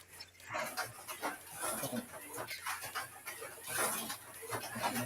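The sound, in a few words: dogs panting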